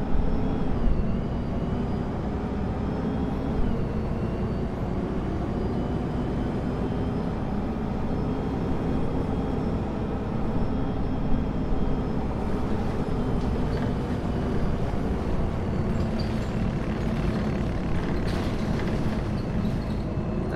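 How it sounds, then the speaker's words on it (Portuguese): A city bus engine in Proton Bus Simulator drones loudly and continuously as it accelerates, a steady, heavy rumble with no talk over it. "O motor acelera o ônibus."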